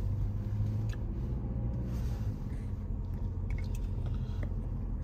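Car cruising through a residential neighbourhood in Ajax, Ontario, in fall, heard from inside as a steady low engine and road rumble with faint bumps and ticks.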